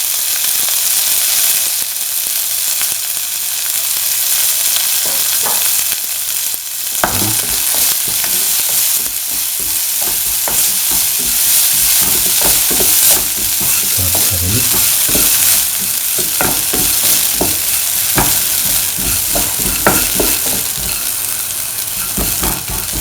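Red chili and ginger frying in a pan with whole spices for a mint kidney bean stew: a continuous close sizzle with scattered scraping and clinking stir strokes throughout, no speech.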